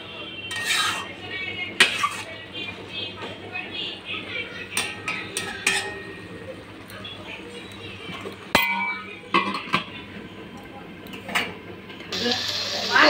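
Metal spoon scraping and clinking against a cooking pot as a curry of water lily stems and hilsa fish heads is stirred, irregular knocks and scrapes close by with some background noise.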